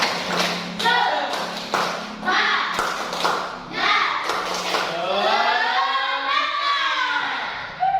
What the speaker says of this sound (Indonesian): kita tepuk semangat dulu ya. Tepuk 1, tepuk 2, tepuk semangat